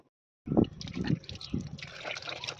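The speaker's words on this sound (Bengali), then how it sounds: "এবার মাছগুলো ধুয়ে নেবো" Raw fish being washed in water in a home Bengali kitchen: after a moment of silence, close splashing and sloshing starts abruptly and continues with uneven trickles and drips, no speech.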